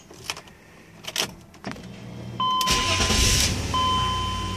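A 2005 BMW engine cranks and starts after key programming: a few clicks and key or switch sounds, then the starter turns over and the engine catches, settling into a steady close idle with a faint electronic tone.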